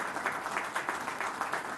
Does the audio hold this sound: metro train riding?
no